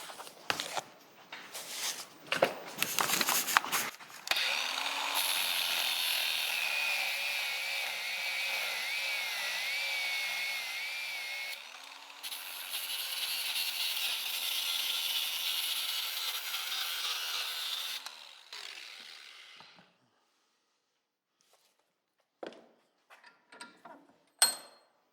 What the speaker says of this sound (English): I'm just going to take the cordless grinder and see if I can nip these off